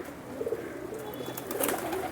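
Soft cooing of pigeons on an old city rooftop in Jammu, a few low murmured coos against faint outdoor background noise, fairly quiet and close.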